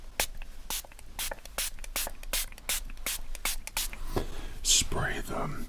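A plastic spray bottle mists luxury towels being folded, with a series of short, sharp spritzes in an irregular rhythm, close and crisp, and soft whispering near the end.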